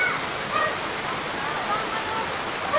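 Heavy rain pours down in a dense, steady hiss, close and loud throughout, with faint voices in the background.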